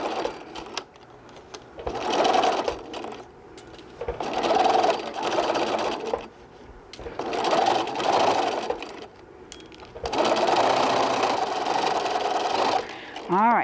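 A sewing machine stitching a bag seam runs in four bursts of fast, steady whirring with brief pauses between them, close and fairly loud, as a person talks intermittently.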